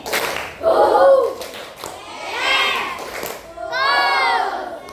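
A class of children claps and chants a coding-lesson clapping chant together in short rhythmic bursts, loud and close, with a woman teacher's voice leading between the rounds.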